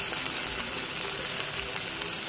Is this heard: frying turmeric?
yes